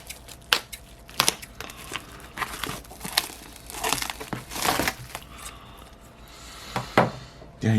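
Paper wrapping on a gift package of Japanese stamps crinkles and tears as it is unwrapped, in close, irregular bursts of rustling and ripping with short pauses between them.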